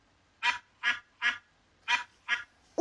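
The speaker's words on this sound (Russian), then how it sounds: "Утка." A duck quacks six times in short, evenly spaced calls, close and clear against silence.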